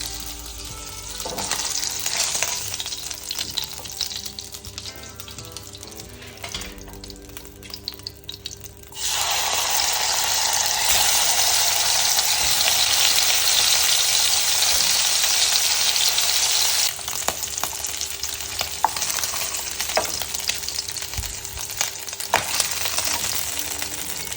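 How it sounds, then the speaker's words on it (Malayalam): Fish frying in a pan for a Thalassery fish biriyani, a steady loud sizzle that swells sharply about a third of the way in and then stays intense, with soft stirring and scraping beneath it. "അങ്ങനെ നമ്മൾ ഫിഷെല്ലാം വറുത്തെടുത്തു"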